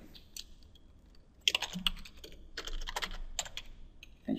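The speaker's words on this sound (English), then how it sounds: "And you can see how bad my typing is." Typing on a computer keyboard in a quiet room: bursts of close, crisp key clicks, sparse at first, then denser runs of keystrokes with brief pauses, no voices.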